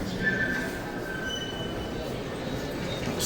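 A train pulls into Porta Susa station in Turin, its wheels squealing in high thin whines over a steady rumbling rail roar, close and fairly loud with no talk.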